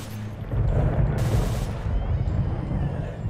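Gunfire in the video game S.T.A.L.K.E.R.: Call of Pripyat comes as a muffled, booming rumble of distant shots with a sharper burst in the middle, and speech is mixed in.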